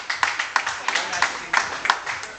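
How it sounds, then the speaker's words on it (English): A small group gives a round of applause for performers at a midday social event, with sparse, distinct claps that come unevenly. "a round of applause to everybody."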